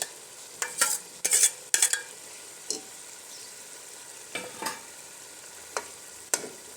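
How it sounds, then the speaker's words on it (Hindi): Half a kilo of beef mince keema is stirred and fried in a masala, with soft sizzling under repeated scraping strokes of a spoon against the pan, loud and close. "कीमे को इसमें भुनेंगे"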